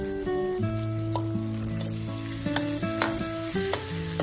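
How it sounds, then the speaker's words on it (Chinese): Chopped garlic slices and onion sauté in melted butter in a pan for pumpkin soup, giving a steady close sizzle with a few stirring clicks over a sustained tonal backdrop. "把黄油炒化，现在再放入蒜片和洋葱"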